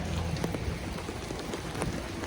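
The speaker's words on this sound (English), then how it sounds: "It's raining." Rain falls on a New York street in Brooklyn, a soft, steady hiss with scattered drops ticking close by, faint and continuous with no voices.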